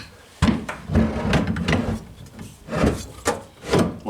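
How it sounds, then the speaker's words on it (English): A truck bike rack slides over plastic bushings, giving loud scraping, rubbing thumps in several bursts with short pauses between, close by. "Slide your rack over the top of the bushings."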